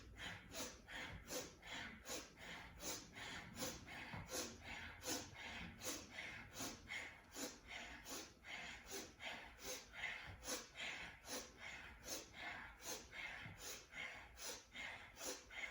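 Rapid, forceful bellows-style pranayama breathing, sharp rhythmic nasal exhales pumping steadily at about two per second, close and fairly quiet, continuing evenly throughout.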